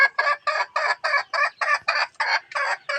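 A rapid, regular series of about a dozen sharp calls from native hens, loud and close, evenly spaced like insistent clucking, with no voices.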